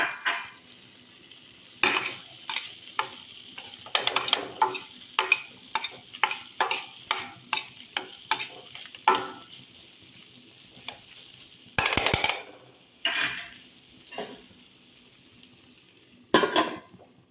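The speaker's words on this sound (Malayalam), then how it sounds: "നമുക്ക് ക്യാപ്സിക്കം ഇട്ടതിന് ശേഷം ഞാൻ ഒരു പ്രാവശ്യം ഇങ്ങനെ ഇളക്കി കൊടുക്കുന്നു" Potatoes and capsicum frying in a pan are stirred with a utensil in repeated sharp scraping strokes, knocks against the pan's metal over a quiet, faint sizzle, with irregular pauses between the strokes.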